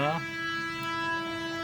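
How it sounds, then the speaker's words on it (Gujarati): A loud, sustained train horn blares steadily throughout, with rumbling rail noise underneath and a brief higher tone at the start. "ટ્રેન હાલી આવે છે ગામથી હાલી આવે છે"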